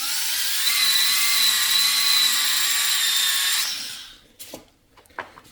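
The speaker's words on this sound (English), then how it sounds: "we're just using the snap-on sander polisher with the roll-lock mop" Snap-on sander polisher with a roll-lock mop polishing a Harley-Davidson Sportster 48 Bobhead, a loud steady high-pitched whine running alone for several seconds before spinning down and stopping, followed by a few faint knocks.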